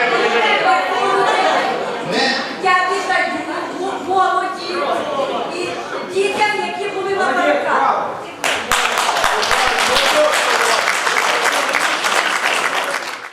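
Sustained audience applause and clapping at a town public assembly in Novovolynsk, dense and loud throughout, with crowd chatter and voices mixed in before the clapping swells into a sharper, fuller burst near the end.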